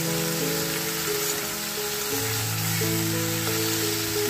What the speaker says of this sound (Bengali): বেগুন এগুলো একটু ভেজে নেব